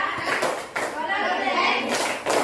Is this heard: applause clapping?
yes